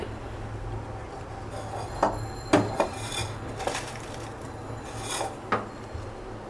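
A spoon stirring duck curry in a pot, scraping and clinking against the metal with scattered sharp knocks over a low steady hum from the stove, fairly close.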